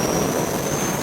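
A Huey helicopter's engine runs at close range, a dense, loud turbine roar with a thin high whine held steady and no talk over it.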